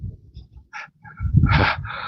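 Canada geese honk and call nearby on a cold, stormy Lake Erie shore at Crystal Beach, a few short harsh bursts, then a louder, denser stretch of overlapping honks near the end.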